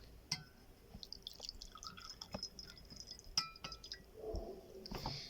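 Water being poured into a small container for a baking soda chemistry demonstration, with faint drips, light splashes and glassy clinks, quiet and close, ending in a short steady trickle.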